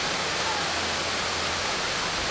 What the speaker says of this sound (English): it's your friendly local neighborhood waterfall. It's got a very nice rippling look to it